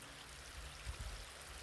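A small stream trickling into a creek outdoors, a very faint, steady watery hiss and burble with a few soft low bumps, quiet and continuous with no voices.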